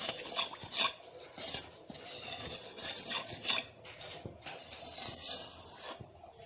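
A utensil stirs masalas through baby potatoes in a pan on the gas, giving repeated scraping and metallic clinks in an uneven rhythm, close and moderately loud, with no talking.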